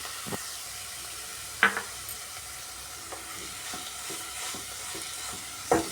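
Soft sizzle of bottle gourd halwa with sugar frying on a low flame, steady and quiet, broken by a few sharp clinks of a spoon stirring against the pan.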